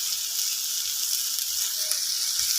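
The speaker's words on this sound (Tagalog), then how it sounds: "gisa-gisa lang natin" Ingredients for ginataang talong sizzle steadily in a hot pan, a bright continuous frying hiss with faint stirring, no voices present.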